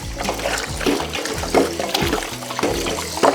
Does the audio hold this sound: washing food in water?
yes